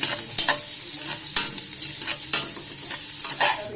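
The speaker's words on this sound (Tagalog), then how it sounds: "Ilagay na ang sibuyas bawang." Onion and garlic frying in a pan for pancit, a steady loud sizzle with occasional stirring scrapes and clinks, continuous throughout with no talking.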